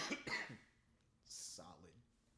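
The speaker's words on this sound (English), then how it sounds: "I'm gonna cough now." Two quick, close coughs from a person in a quiet indoor setting, followed by a short breathy throat sound and faint murmuring.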